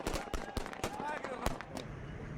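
Gunfire bursts in Iraq near Mosul as fighters shoot down an ISIS spotter drone: sharp repeated shots in uneven rapid volleys, loud and close, against a noisy outdoor background.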